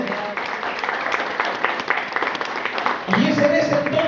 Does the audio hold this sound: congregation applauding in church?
yes